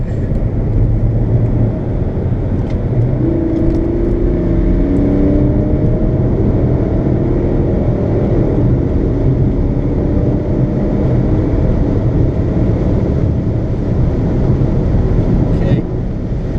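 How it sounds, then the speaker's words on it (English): A BMW 335d diesel engine pulls hard during a street race, a loud, steady drone heard from inside the car, with a person talking over it. "It sounds nicer. Like, you can hear the engine pretty good."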